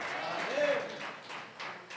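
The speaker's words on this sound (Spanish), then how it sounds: "Dale un fuerte aplauso al Señor Jesucristo." A church congregation applauds, a soft, somewhat distant patter of clapping that rises and falls, with a voice speaking over it.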